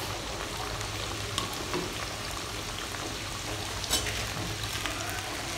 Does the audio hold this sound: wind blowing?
no